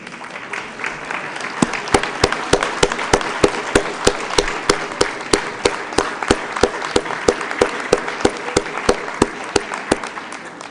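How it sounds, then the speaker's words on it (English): Audience applause for people standing to be honored at a gathering. It is a broad wash of steady clapping with a strong, regular rhythm of louder claps, probably one person clapping close by. "Would you please stand so we can applaud you?"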